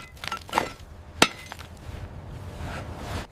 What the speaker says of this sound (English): He starts hammering a large chisel into the mud packed between the track links.